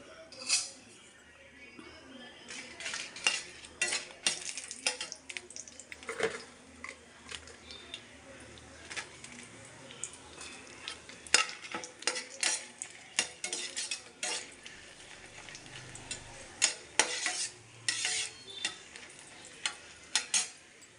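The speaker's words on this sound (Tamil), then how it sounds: "காஞ்ச மிளகா போட்டு வறுத்து எடுத்துருவோம்." Dried red chillies roasting in a pan for garlic chutney, stirred with a metal spoon, giving repeated sharp scrapes and clinks in irregular bursts over a faint background sizzle, close by, no voices.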